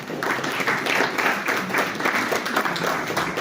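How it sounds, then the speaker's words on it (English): An audience at an awards ceremony claps for a woman walking on stage, a dense, even patter of many hands that holds steady throughout. "A big round of applause for her."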